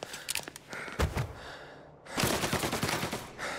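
Gunfire in the video game Mafia Definitive Edition, a rapid series of sharp shots in bursts with a short pause between, loud and near.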